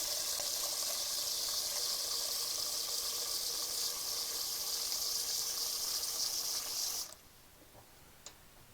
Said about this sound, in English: I'm going to start to prepare the water to boil naengmyeon.